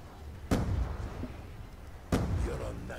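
Two sharp, punchy explosions from thrown grenades in a video game, roughly a second and a half apart, each a sudden bang trailing into a short rumbling decay over faint background noise.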